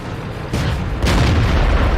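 Tank cannon fire in the World of Tanks game from a German VK 36.01(H) tier 6 medium tank while moving, heard as loud heavy booms over a continuous rumbling engine drone, with no talking.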